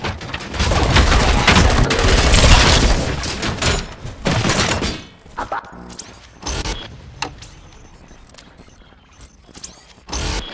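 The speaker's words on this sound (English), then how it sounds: "Gunshots? What's going on?" Rapid bursts of automatic gunfire in the RoboCop Rogue City video game, loud and dense for the first few seconds, then sparser single shots and mechanical clanks trailing off.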